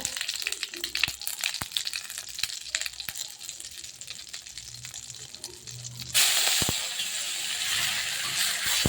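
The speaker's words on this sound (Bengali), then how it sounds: "দিয়ে দেবো জিরে ফোড়ন। একটু জিরেটা লাল লাল হবে, আমি দিয়ে দেবো নিম পাতা।" Cumin seeds and neem leaves sputter in hot oil for a Bengali neem-brinjal dish, a steady close sizzle with scattered crackles and utensil clicks, jumping to a louder, bright hiss about two-thirds through as the leaves hit the pan.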